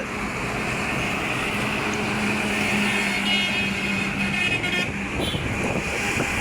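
Steady road traffic roars beside a highway in Cumilla, a continuous broadband wash of passing vehicles with a sustained engine drone and a faint horn, no speech over it.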